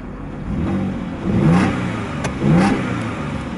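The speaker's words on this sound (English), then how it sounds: "lovely raspy notes coming from the exhaust." Audi A6 2.8 FSI Quattro V6 petrol engine revved twice in quick succession, each blip rising to a raspy exhaust note over a steady idle, close by and fairly loud.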